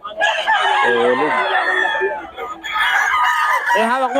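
A Sweater-bloodline gamecock rooster crows loudly and close by, with two long, strained cock-a-doodle-doo calls separated by a short pause.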